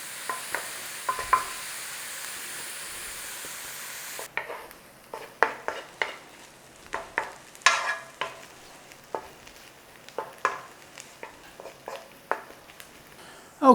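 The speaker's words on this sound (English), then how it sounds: "I'm going to let the pepper cook with the onions." Onions and black pepper frying in a pan, heard as a steady close sizzle broken by repeated scraping stirs and light clinks of utensil on pan, with no talking.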